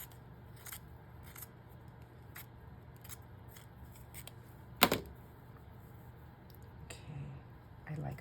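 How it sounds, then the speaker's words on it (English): Scissors snip through paper in a quiet crafting space, a series of crisp, close cuts spaced about a second apart with one sharper, louder snip midway, and soft handling noises between. "Let me try cutting up the middle of this."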